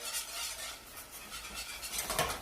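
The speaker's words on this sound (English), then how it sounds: "This is the time where we're slowly going to add our milk." Milk poured slowly into a pot of cheese sauce for crispy mac and cheese, a soft continuous liquid swish and stirring clatter, close and steady, with no voices.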